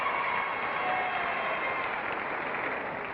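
A studio audience at a classic Price is Right game show breaks into steady, dense applause. The clapping is even and sustained from start to finish, with no voices over it.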